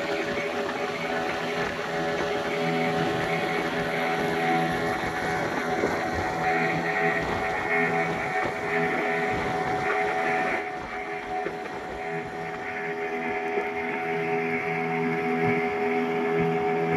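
A fishing boat's engine drones steadily at night among the rocks near Sindhudurg fort off Malvan, a continuous loud hum with a dense, even texture and no talking.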